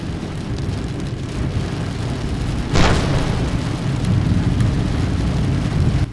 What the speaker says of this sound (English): Rain like yours.